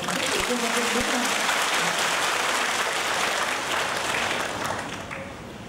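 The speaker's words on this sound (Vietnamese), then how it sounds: "tràng vỗ tay thật lớn cho thầy" A big round of applause for a teacher at a university freshman orientation week in Vietnam, dense steady clapping from a large crowd that thins slightly toward the end, with voices mixed in.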